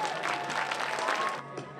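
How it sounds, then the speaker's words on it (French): Crowd applause from spectators at a stage finish of the Tour de l'Avenir cycling race, a dense steady clapping wash that cuts off sharply near the end, with some cheering mixed in. "écoutez les applaudissements du public"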